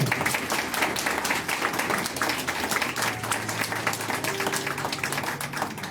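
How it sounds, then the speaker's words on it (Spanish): Sustained applause from a church congregation, many hands clapping densely and evenly throughout. "denle un aplauso al Señor"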